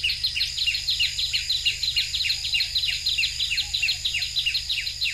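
Small birds chirp in quick repeated high notes, a steady busy chorus with a faint low hum underneath.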